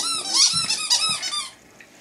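A rubber duck toy squeaks in quick, high-pitched bursts, two or three squeezes close together, then fades to quiet.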